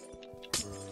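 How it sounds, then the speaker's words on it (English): A blow strikes glass in the Minecraft Crafting Dead roleplay, one short sharp clink with a brief shattering ring, alone and fairly close. "I can't break through this glass."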